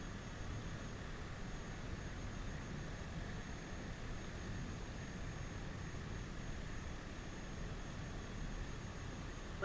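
Airplane engine in a flight video game while taxiing fast, heard as a steady, faint, broadband drone that holds level with no breaks and no talk.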